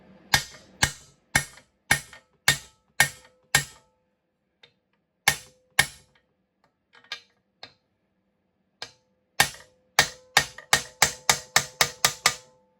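Parts of a Stihl 090 chainsaw being tapped onto dowels during a rebuild: runs of sharp, evenly spaced hammer taps, a quieter stretch with a few isolated knocks, then another fast series of taps.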